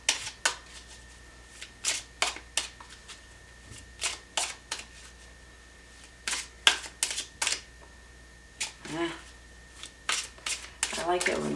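Tarot cards riffle and shuffle in repeated quick bursts close by, crisp flutters separated by short pauses, ending as one card pops loose from the deck.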